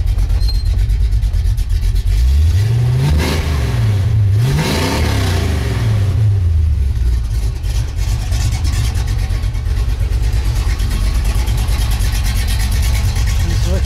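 A 1978 Chevrolet Malibu Classic engine runs steadily at idle around 800 rpm, loud and close, with a couple of brief rising revs early on before settling back to a constant rumble.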